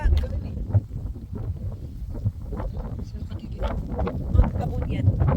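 Wind gusts buffet the microphone on a steep mountain trail in Benguet, a steady low rumble with louder surges throughout, while people talk nearby.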